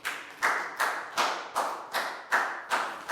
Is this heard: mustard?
no